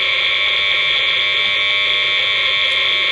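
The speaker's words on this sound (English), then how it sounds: "Interesting to see if it makes much difference to the noise sniffer's output." Electronic noise from a noise sniffer plugged into a power strip with surge filtration, heard as a steady, loud, unbroken buzzing hum with no talking.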